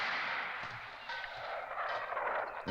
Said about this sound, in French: D'après moi, c'est le bruit d'un vieux fusil.